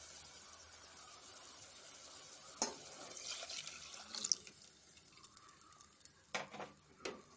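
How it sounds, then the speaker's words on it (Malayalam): Cooked mango water is poured into a pan of mango curry, a faint liquid trickle and splashing with a few louder drips and knocks near the end. "ഇത് മാങ്ങ വേവിച്ച വെള്ളമാണ്. ഇത് നമുക്കിനി ഇതിലോട്ട് ഒഴിച്ചു കൊടുക്കാം."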